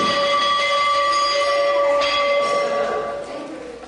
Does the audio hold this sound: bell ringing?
yes